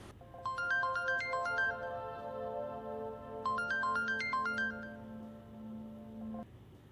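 A phone rings with an incoming call, its bright electronic melodic ringtone playing in two bursts of quick stepped notes over a steady held tone, clear and close in a quiet room.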